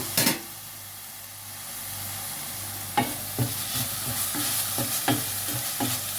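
Chopped tomato frying in a pan for a home-style fish curry: a steady sizzle runs throughout, broken by a sharp clatter at the start and a rhythmic series of spoon-stirring knocks toward the end, close and moderately loud.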